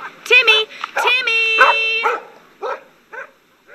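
A dog barks and yips in short bursts near the listener, mixed with excited speech in a dramatized audiobook scene by the shore.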